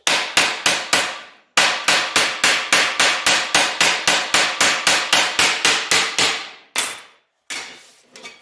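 Hammer blows on sheet metal while stretching the center of a crown panel with simple tools, loud ringing strikes in a fast, steady rhythm, with a pause near the start and a few slower hits at the end.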